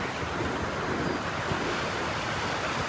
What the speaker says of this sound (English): You can hear those waves are roaring.